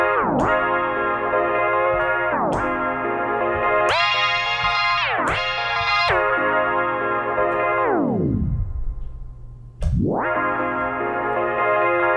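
A sustained Elektron Analog Four MKII synth chord through a Strymon Volante repeatedly slows and drops in pitch, like a tape machine grinding to a halt, then ramps back up to speed.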